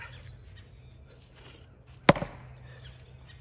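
A single sharp, loud strike of a swung blow into extremely dense wood, a lone crack with a brief rattle after it over a low steady hum.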